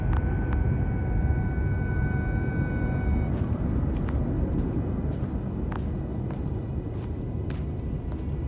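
Lander spacecraft in flight in The Invincible video game, a loud continuous low rumbling roar that holds steady throughout, with faint sharp ticks and clicks scattered over it.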